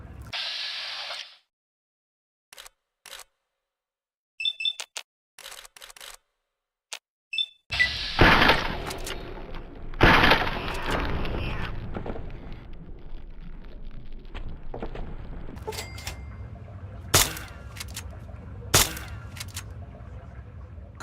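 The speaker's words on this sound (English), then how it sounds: "Think you can take care of that with your BB gun? Just aim and shoot." BB gun shots at a radroach in Fallout 3, heard as a few sharp cracks spread across a stretch of game ambience, with quiet pauses at the start before steadier background noise takes over.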